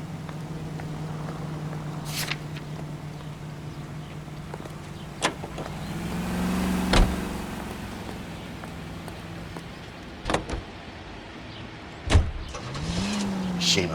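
A car is driven in the video game L.A. Noire, with an engine hum that rises and falls. Several clunks and bumps sound close by, and voices speak in the scene.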